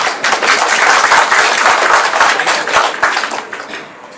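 A crowd in a hall at the Carlton breaks into loud, dense applause that holds strong for several seconds, then gradually thins and fades toward the end.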